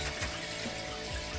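Water from an aquarium gravel cleaner draining into a sink, a soft steady trickle and gurgle, faint and close.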